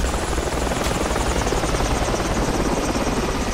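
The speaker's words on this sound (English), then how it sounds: "there's enough helicopters buzzing us before we get some kills" Helicopters in a combat video game, a loud continuous rotor chop thudding rapidly and evenly overhead with no pause.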